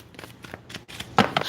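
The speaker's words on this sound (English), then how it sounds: "most of my cards I've been shuffling, have had Jesus on the top." Tarot cards are shuffled by hand close up, a run of soft papery riffles and flicks in irregular rhythm, with a couple of sharper snaps near the end and no talking.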